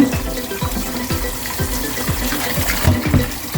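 Tap water running into a cooking pot for rinsed meat in a home kitchen, a loud continuous gushing stream with rhythmic sloshing pulses as the pot fills, no talking.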